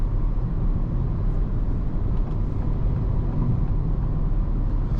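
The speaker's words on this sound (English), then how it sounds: "You hear a little bit of wind noise, you hear a good amount of tire noise, and you do hear some engine noise." Steady cabin drone inside a 2024 Acura Integra Type S cruising at 78 mph, a constant low roar of tire noise with light wind rush and some engine hum, continuous and even throughout.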